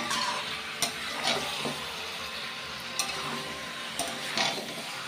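Meat browns in a pan as it is stirred during slow kosha-style frying with turmeric and spices. A steady close sizzle runs throughout, broken by occasional scrapes and clinks of the spatula against the pan.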